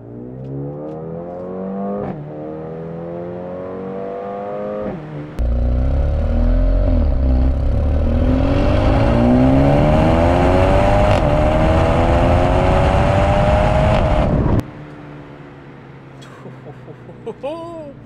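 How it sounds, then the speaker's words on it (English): A 2023 Mercedes-AMG CLA35 exhaust idles, then roars loudly as the engine revs with rising pitch for several seconds before abruptly dropping back. "That's what the exhaust sounds like with the 5 different modes that we just went through."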